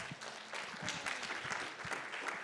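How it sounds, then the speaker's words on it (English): Audience applause for a presenter at a journalism pitch showcase: a dense patter of clapping from a room of people, fairly faint and steady for a couple of seconds, with a brief hum in the background. "let's give Alex a big round of applause."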